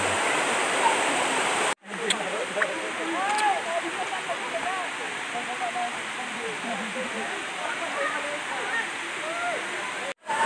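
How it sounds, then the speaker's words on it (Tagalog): Lalaugon Falls in Barangay Yating pours in a loud, steady roar of falling water that fills the whole scene, with only brief cuts in the sound. "Kaya visit na kayo dito sa Lalaugon Falls sa Barangay Yating."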